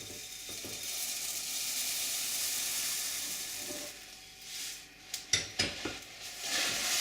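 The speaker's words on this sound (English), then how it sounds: "Our marshmallows have melted enough now to actually put our Rice Krispies in" Rice Krispies are stirred into a pot of melted marshmallows, making a soft continuous crackling hiss, then a few sharper scrapes and knocks against the pan near the end, with no voices.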